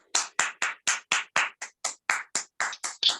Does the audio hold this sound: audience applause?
yes